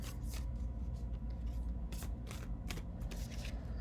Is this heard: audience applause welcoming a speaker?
no